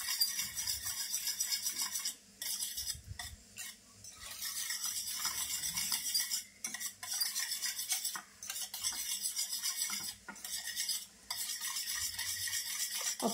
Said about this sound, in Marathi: आता एकदम अशा मॅश करून घेते.